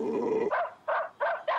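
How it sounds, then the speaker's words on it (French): A cartoon dog growls low for a moment, then gives three short, loud barks in quick succession, close up and alone. "Oh, le beau toutou."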